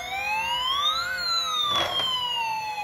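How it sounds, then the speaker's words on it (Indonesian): A toy fire truck's electronic siren wails loud and close, its tone sweeping up and then gliding back down, with a brief buzzy burst partway through. "sekarang kita jalankan pemadam kebakaran ini"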